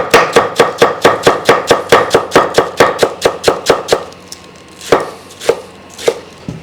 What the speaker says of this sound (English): Slice in half and just squeeze it just to create some tension so we get some nice clean slices.